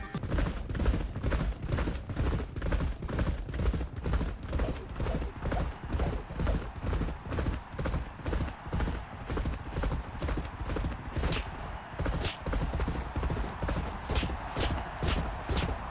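Rhythmic hoofbeats of a racehorse in the horse racing video game Champion Jockey: G1 Jockey & Gallop Racer pound in a fast, steady galloping pattern, loud and close, continuing throughout without pause.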